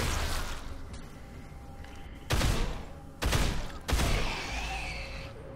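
Three loud, close bursts of gunfire in the video game Dead Island break over a quieter background, each a few rounds long and separated by short pauses.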